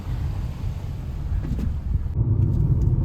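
A car drives along the road from Himarë to Sarandë in Albania, steady broadband road and engine rumble heard from inside the vehicle, continuous and fairly loud with no voices.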